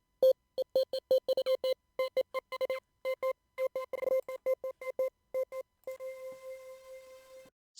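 Ring mod effect sample from a jungle sample pack: rapid choppy bursts of metallic, bell-like synthetic tones stuttering in an uneven rhythm, ending in a longer ringing tone with a fluttering tail, no voices.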